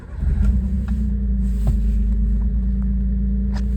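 A cold 1998 Suzuki Jimny's K6A turbo engine idles steadily with a low, even rumble, heard up close and alone, with a few faint clicks and ticks on top.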